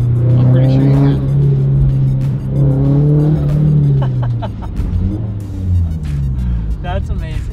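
A turbocharged, untuned Subaru BRZ engine revs and surges with turbo noise, loud and close, while people talk over it.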